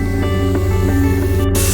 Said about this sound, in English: and then they're going to create a hot air weld.